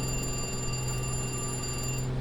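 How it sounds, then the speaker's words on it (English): Gear warning horn in a Black Square Commander 114 in MSFS2024, a steady electronic beeping tone like an egg timer sounding continuously over a low cockpit engine hum, cutting off just before the end. "if you pull the power all the way back and the gear's not out, it'll give you a warning, and it sounds like a egg timer going off"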